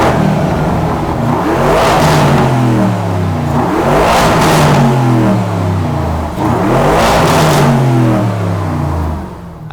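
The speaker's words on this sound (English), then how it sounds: "Let's give it a little rev." A Lamborghini Urus fitted with a Nero sports exhaust revs hard three times, each loud, close blip rising in pitch and falling back to a rumbling idle between pulls, with no talking.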